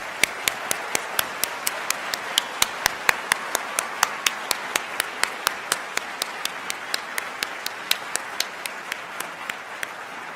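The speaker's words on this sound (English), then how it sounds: "Let's have a round of applause for the class of 2028." At a medical school white coat ceremony, the audience applauds the incoming class of 2028. The steady, rhythmic clapping carries over a soft crowd wash for about ten seconds, heard from some distance and fairly faint.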